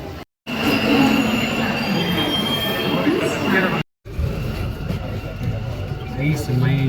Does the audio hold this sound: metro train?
yes